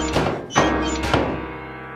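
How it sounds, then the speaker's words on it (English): Head banging against a mailbox: three dull, booming thumps on hollow metal in a slow irregular rhythm, each ringing briefly before fading, close and fairly loud. "banging his head against a mailbox"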